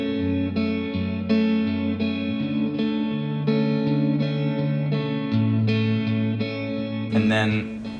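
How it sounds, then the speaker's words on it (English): A stripped-down folk guitar verse is finger-picked, its bright plucked notes rolling over held bass tones in a steady, gentle pattern, ending with a brief scratchy strum. "there's this verse that is like this folk kind of stripped down finger picking and singing"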